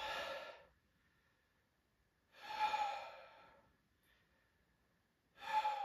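Three deep yoga breaths at an even pace, each a soft, airy exhalation close to the ear, with near silence in between.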